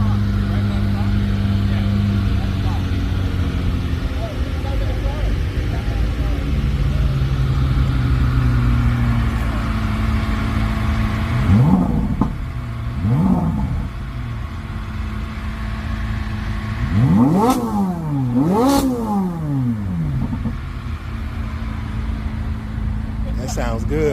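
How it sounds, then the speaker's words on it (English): A Chevrolet Corvette C8 Z06 idles with a deep, steady rumble, then is revved nearby in one sharp blip followed by a quick double rev that rises and drops in pitch. "Corvette Z06 Rev."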